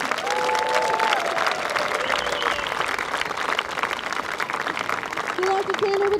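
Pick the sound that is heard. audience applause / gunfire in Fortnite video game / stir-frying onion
audience applause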